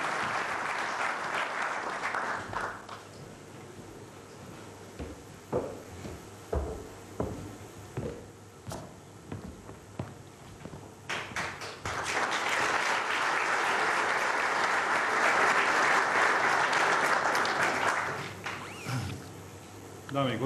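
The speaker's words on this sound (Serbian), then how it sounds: "Pozdravite ih aplauzom." An audience at a basketball federation anniversary ceremony bursts into full applause, fades to scattered individual claps with some talk in between, then swells again into sustained loud clapping before tapering off.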